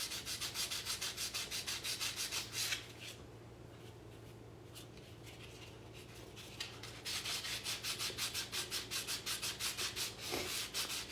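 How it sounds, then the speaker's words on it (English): Sanding a 2023 Libertad coin by hand: steady, rapid rasping strokes close up, pausing briefly midway before the scratchy back-and-forth rubbing resumes, with no talking. "Now I'll just sand this a little bit."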